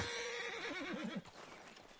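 A horse in the video game Red Dead Redemption 2 whinnies in a wavering, descending neigh that cuts off abruptly, followed by quieter background noise.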